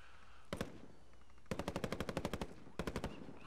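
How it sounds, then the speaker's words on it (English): Bursts of automatic gunfire in the video game Warzone: a short double shot, then a long rapid rattling string of rounds, followed by another brief burst, crisp and fairly close. "I hear gunfire."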